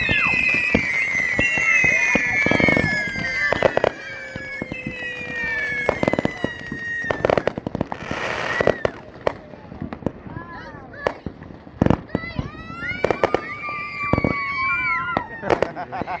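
A backyard fireworks display in Bunker Hill, West Virginia, with rapid loud bangs and crackles, whistling and screaming rockets rising and falling, and people talking and cheering throughout.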